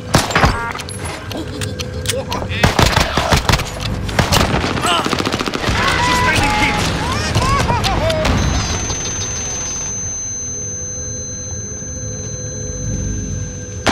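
Rapid bursts of video game gunfire, including pistol shots, crack through the opening seconds, loud and close, then give way to a quieter stretch of in-game sound with a steady tone.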